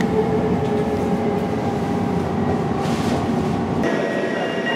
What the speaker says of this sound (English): The current trains consist of only 7 coaches.